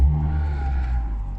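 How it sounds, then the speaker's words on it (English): A Mazda MX-5 RF with a 2.0 SKYACTIV-G petrol engine and manual gearbox starts up close by, a loud initial burst settling straight into a steady, humming idle. "engine bursts into life"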